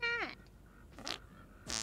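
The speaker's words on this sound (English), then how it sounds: "So much farting." Cartoonish squeaky fart noises in a game chat room with ducks, a few short brassy blasts with pitch sliding downward, separated by quiet gaps.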